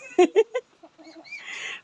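A native chicken that has just laid an egg gives three quick, close clucks, followed by softer scratchy noises and a brief higher squawk.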